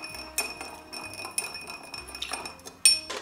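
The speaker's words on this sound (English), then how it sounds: "I'm going to give this a quick stir without" An old fashioned cocktail stirred with sugar and no ice gives repeated clear glassy clinks of a spoon against the glass, sharp and close, with a few louder taps between softer scraping contacts.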